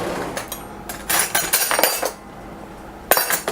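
Metal cutlery clinking and rattling as a utensil is grabbed in a home kitchen, several bright clattering bursts with short pauses between them, close and fairly loud.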